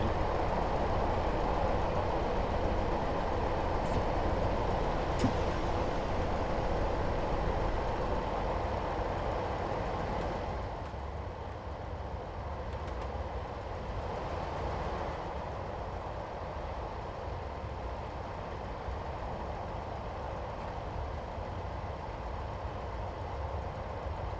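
A train coasts downhill with the engine off in a Scottish train simulator game, giving a continuous, low rumbling rail noise that softens slightly partway through, with no talking.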